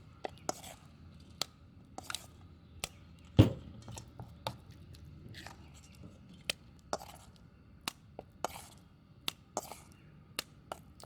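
A utensil strikes raw beef mixed with egg in a home kitchen, giving a dozen or so sharp, light taps at an irregular pace, with one heavier thump, under quiet, soft talking.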